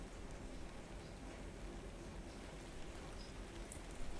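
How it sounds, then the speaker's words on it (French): Light rain falling steadily, a soft even patter of drops spread across the whole clip with no voices and a faint, constant level throughout. "D'une pluie fine?"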